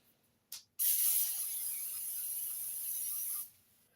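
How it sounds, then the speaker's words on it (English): A brief puff, then a steady hissing cooking oil spray onto a muffin tin lasting about three seconds before stopping; close and fairly quiet otherwise. "you spray down the muffin tin without inhaling your oil so that nothing sticks"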